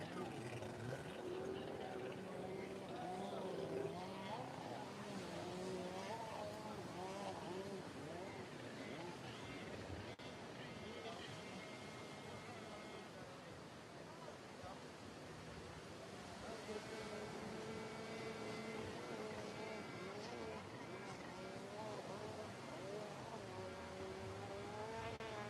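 Surf moto motorcycles racing on the beach at Huntington Beach, engines whining and revving in overlapping waves as bikes pass at a distance, under steady commentator talk.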